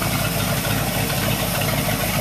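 A 327F V8 marine engine in a boat runs steadily at idle, a loud, continuous low rumble with a constant throb and no pauses and no voices over it.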